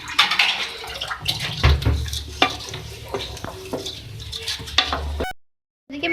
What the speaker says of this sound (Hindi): अब इसको मैं करूँगी मिक्स।